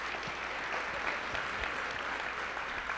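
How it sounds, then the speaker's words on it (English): Audience applause for students at a student travel program information meeting, a steady broadband wash of clapping held at an even level throughout with no voices over it. "Let's give our students a warm round of applause."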